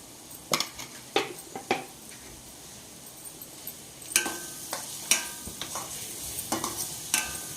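Grated carrot and coconut are stirred and fried in a pan, with a quiet sizzle beneath sharp scraping clicks of a spatula against the metal coming in irregular bursts, close and alone.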